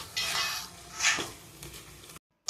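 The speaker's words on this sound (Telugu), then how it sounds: "మనం ముందుగా కుక్ చేసుకున్న ఆకు ఇంకా పప్పు అందులో వేసి బాగా కలుపుకోవాలి" Scraping and clinking of a utensil stirring cooked greens and lentils in a pan, a few strokes over a faint sizzle, then abrupt silence.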